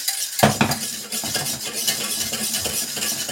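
A whisk works through a cheese soufflé sauce in a pan. A brief clatter opens into close, continuous rhythmic scraping and swishing against the pan.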